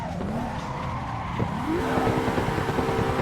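Tires skid and squeal as a race car slides through a handbrake turn in a racing video game played on a MECA EVO handbrake and shifter, a steady engine drone under a rising whine with no talk.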